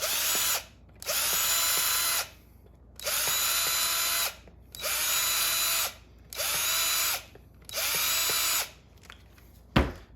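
A power drill whirs in six bursts of about a second each, cleaning up holes in a 3D-printed flute, separated by short pauses, and a sharp knock comes at the end.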